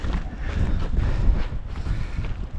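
Coastal wind near Trwyn Du Lighthouse on Anglesey buffets the microphone in a constant low rumble with irregular gusty swells, with no voices heard.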